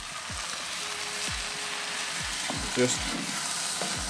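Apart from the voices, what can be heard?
tomatoes stirred into frying onions and peppers on BBQ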